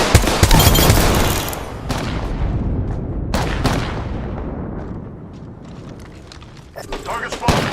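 Dense bursts of automatic gunfire and shots in the battle royale shooter Apex Legends, loud and close, with heavy volleys at the start, a sharp burst midway and more shots near the end, amid game voice callouts.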